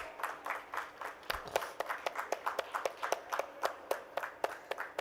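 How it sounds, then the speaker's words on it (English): Continuous clapping from a healthcare conference audience, with many hands beating in a steady, fairly dense rhythm at moderate loudness, no voices over it. "Let's keep the applause going."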